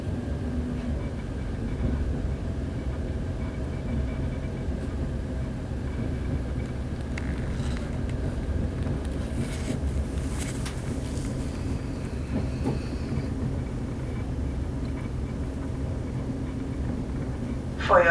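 A steady low rumble and rattle fills the cabin of a Trans-Pennine Express class 185 diesel multiple unit running between Manchester Piccadilly and Manchester Airport, continuous throughout with faint brief sounds on top.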